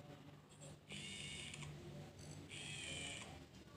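Vivo NEX phone's pop-up camera mechanism plays its mechanical motor sound effect twice, each a bright whirring, ratchet-like burst about a second long, close and fairly quiet over low background hum.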